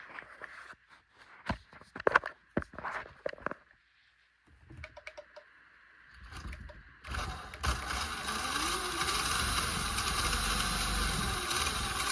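Kyosho Tomahawk RC car motor starts after a few scattered clicks and handling noises, then runs as a steady, loud whine with a rising pitch sweep, continuing to the end without speech.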